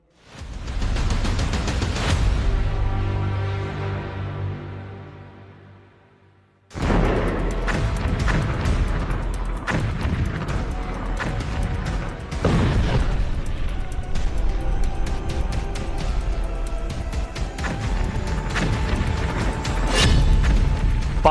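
Heavy explosions from bombing strikes in Lebanon, a huge booming blast decaying over several seconds before a second sharp detonation, followed by sustained crackling, rumbling bursts and debris noise.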